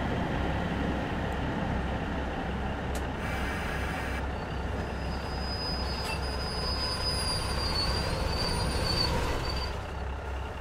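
A BR Class 150/2 diesel unit in Train Sim World 2 rumbles loudly as it brakes toward a stop, with continuous wheel rumble, high metallic brake squeal and a brief hiss of air.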